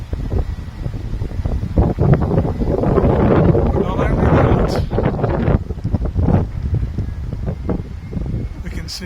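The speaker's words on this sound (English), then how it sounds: "apologies, it is very windy here today" Strong wind roars and buffets the microphone at a fairground while rides are built. It is loud and steady throughout, with a voice speaking briefly over it.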